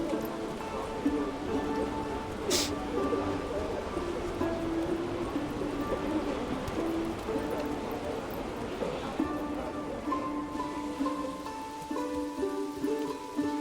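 Steady rain patters throughout in the video game Pacific Drive, a dense even hiss with light drumming, under a speaking voice and faint game sounds.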